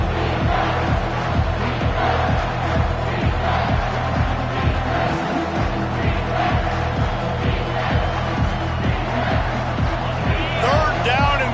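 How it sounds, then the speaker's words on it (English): Football stadium crowd at a Clemson game on a third down: a loud, steady roar with rhythmic pulses of noise throughout, under continuous talk. "this crowd will blow out a vocal cord to help this defense"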